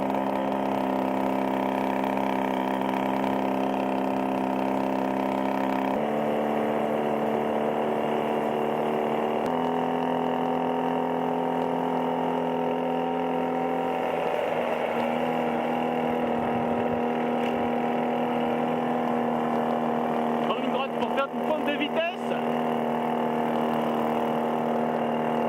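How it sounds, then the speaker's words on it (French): A cold moped engine fitted to a demountable bicycle runs steadily, giving a continuous buzzing drone whose pitch steps up and down a little as the bike rides along, with no talk over it. "le moteur est un peu froid donc il va pas très vite pour l'instant"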